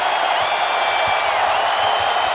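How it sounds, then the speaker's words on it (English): Packed basketball arena crowd during a Wizards–Celtics playoff game, Game 5, roaring continuously as a dense, loud wall of cheering and noise, with no individual voices standing out. "The crowd is loud."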